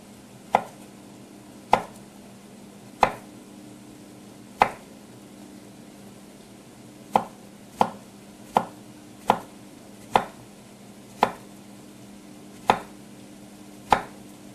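A knife chops on a cutting board in sharp, separate strokes at an uneven pace, about a dozen close, crisp knocks over a quiet background.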